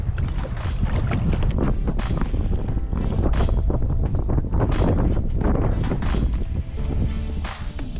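Choppy open sea slapping and buffeting a small fishing boat, a loud continuous wash of water and wind rumble with irregular thumps of hull against waves throughout.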